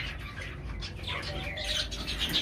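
Cockatiels in an aviary chirp and squawk, with flutters of wing flapping over a constant background hum, close and moderately loud.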